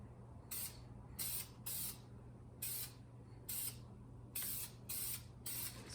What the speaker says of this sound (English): Just put some paint on top of it and it looks good again.